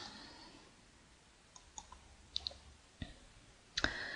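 A computer mouse clicks the Upload button while a webinar is being set up: a handful of faint, sharp clicks spaced irregularly over a quiet background, with the last click the loudest.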